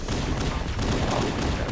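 Rapid pistol fire in the Halo video game, a dense run of punchy shots mixed with game battle noise, loud and continuous with no pauses.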